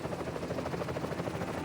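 A helicopter shutting down just after touching down on its skids during a medical emergency callout, a steady close rotor and engine drone with a faint rhythmic beat, continuous and fairly quiet with no voices.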